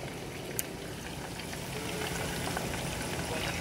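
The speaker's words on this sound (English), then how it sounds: "I just put 3 fishies over there and it's boiling" Three pieces of mackerel frying in a hot pan of oil, giving a steady dense sizzle and crackle that swells slightly louder partway through, with no talk.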